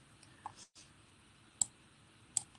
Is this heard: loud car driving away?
no